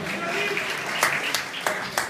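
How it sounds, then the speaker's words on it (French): Applause from an audience at a golf trophy ceremony, a continuous patter of clapping with a few sharper claps standing out near the end. "On peut l'applaudir très fort."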